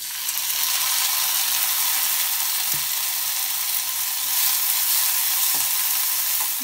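Onions and tomato fry over low heat in a pan, a steady soft sizzle running throughout with a couple of faint clicks of a utensil, no voices.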